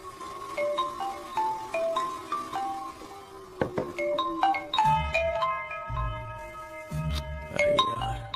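Mobile phone ringing with an incoming call, a melodic electronic ringtone of repeated bright notes that grows fuller partway through, adding a pulsing low beat, loud and close with no talk.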